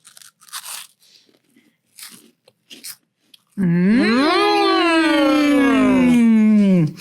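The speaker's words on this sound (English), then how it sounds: "And then you take a bite of the Monster Munch." Several sharp, close crunches come from biting into Monster Munch crisps, scattered over about three seconds, followed by a loud, sustained, sliding tone.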